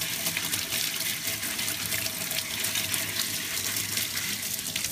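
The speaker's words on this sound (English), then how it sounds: "And then I take this and I rinse them off again." Steady hiss of tap water running and splashing as sliced bullets are rinsed under a faucet, heard continuously and fairly quietly with no talking.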